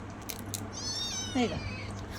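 A cat being bathed and powdered in the morning lets out a single drawn-out, wavering meow, close and fairly clear over quiet household background noise.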